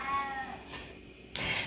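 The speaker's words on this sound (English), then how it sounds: "I have a cat making a huge fuss at the door." A cat meows loudly and insistently at a door indoors during a quiet evening yoga session, with a few separate cries and no talk between them.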